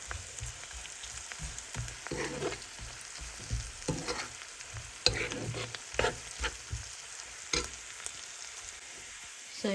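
Onions frying in a pan for Hyderabad-style chicken dum biryani, giving a steady sizzle with soft stirring scrapes and occasional sharper clinks from the utensil, heard close up with no talking.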